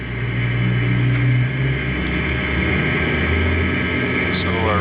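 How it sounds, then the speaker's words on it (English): A jet engine spools up inside a home-built flight simulator, a steady low hum and whine rising gradually under a spoken voice, with a brief higher sweep near the end. "Our right engine, our fan is turning, and our oil pressure is rising."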